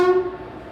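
A train pulling into a station in India on a sleeper-class service sounds a short, loud horn blast that quickly fades into a low, steady rolling rumble.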